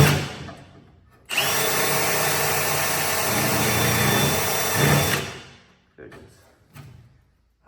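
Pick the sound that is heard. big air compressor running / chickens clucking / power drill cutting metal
power drill cutting metal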